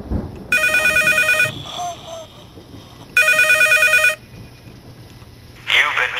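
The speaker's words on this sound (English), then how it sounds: "The phone is ringing." A telephone bell rings loudly in two long electronic bursts with a gap between, alongside faint background noise and a brief sound at the end, in the video game Rec Room.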